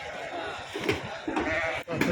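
Lambs bleat in short wavering calls at close range at the Kadiri livestock market, mixed with voices talking nearby.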